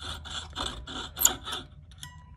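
A small saw cuts through a metal split-shank marquise ring in a series of five or six short, rhythmic rasping strokes, close and moderately loud, then stops.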